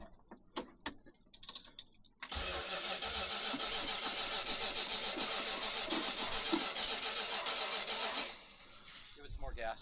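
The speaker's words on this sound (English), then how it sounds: "it is time to hook up the battery and see if she'll start" A 1973 Plymouth Satellite Sebring engine cranks after a few clicks and knocks, then catches and runs with a loud, steady rumbling idle for about six seconds before easing off, with voices around it.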